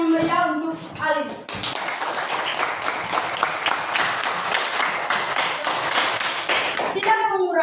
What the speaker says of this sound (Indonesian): Mari kita beri tepuk tangan yang meriah untuk Alin.